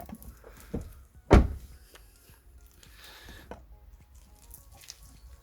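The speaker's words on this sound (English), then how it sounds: "shut the door." A rear door of a 2010 Skoda Yeti is swung shut after its seals were replaced, giving one solid, close thunk followed by quiet handling rustles.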